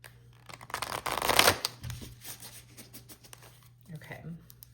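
A deck of cards being shuffled: a quick riffling burst, then quieter rubbing and handling of the cards, close up.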